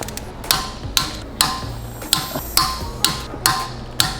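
Sharp metallic clicks from a torque wrench tightening the lug nuts on a 2020 Toyota Supra fitted with a stud conversion kit, coming at a steady pace of about two per second, close and crisp.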